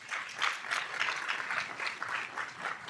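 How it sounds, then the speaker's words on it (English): Audience at a Capitol Hill luncheon on ultra-processed foods applauding a panel, steady mid-level clapping with rhythmic swells throughout, no voices over it. "Please give them another round of applause"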